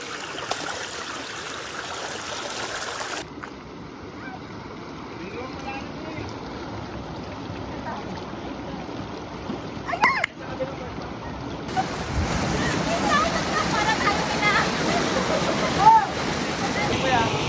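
Clear mountain stream on a hike up Mt. Mariglem in Cabangan, Zambales, flowing in a continuous wash that grows louder toward the end, with wind buffeting the microphone and voices talking now and then.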